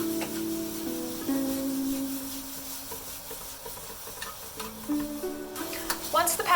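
Long hot peppers sizzle and hiss in a hot pan while being stir-fried, stirred and tossed, with scraping and clattering against the pan throughout.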